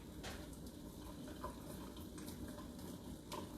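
Water from a pot of soft cooked potatoes being strained in a kitchen sink, a steady quiet splashing stream with a few brief clatters, heard alone without talk.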